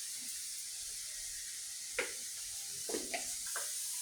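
Bay leaf, cinnamon and cardamom are stirred in a pan while making a sweet raw mango pickle: a faint, steady sizzle with a few soft scrapes of the spoon.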